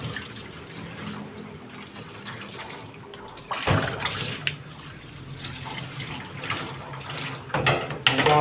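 A weak trickle of tap water running while a dog is bathed for ticks and fleas, a thin continuous splashing with a few louder bursts, close by and with no talk.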